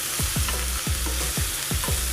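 Chopped broad beans and onions fry in a pan, with a continuous loud sizzle under repeated scraping stirs of a spatula coming at a fairly regular rhythm, close up and with no voices.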